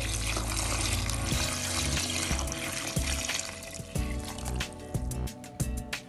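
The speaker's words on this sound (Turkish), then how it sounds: "normal oda sıcaklığındaki suyu ilave ediyorum" Room-temperature tap water poured over orange peels in a kitchen, a steady close splashing and filling sound with a continuous liquid rush, no talking.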